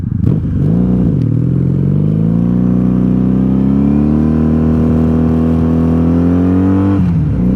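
Steady engine drone of a wrecked 1997 Honda Magna VF750C motorcycle at highway cruising speed, loud and close, with a brief dip in revs near the start and again near the end.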